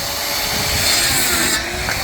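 Electric saw cutting firewood, a loud continuous grinding buzz of the blade biting into wood, steady throughout with a brief shift near the end, no voices.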